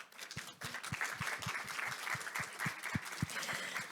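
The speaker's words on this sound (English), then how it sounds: "So let's give them a round of applause" A faint, distant round of audience applause at a meeting, soft scattered clapping with a few sharper claps standing out, continuing without talk.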